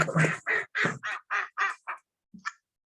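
A run of about seven rapid, loud quacks from ducks comes through a phone line, followed after a short pause by one or two fainter quacks, with no talking over them.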